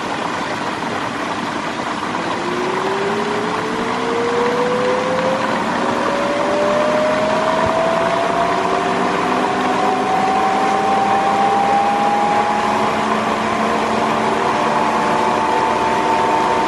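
A 4 inch hydro turbine spinning free with no load, its whine rising steadily in pitch as it speeds up over a constant loud wash of rushing water, heard up close for the whole stretch.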